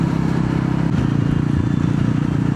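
A Yezdi Roadster motorcycle cruises along a highway, its engine giving a steady, loud, close-up low throb with wind noise over it and no voices.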